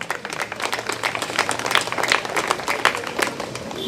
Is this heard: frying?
no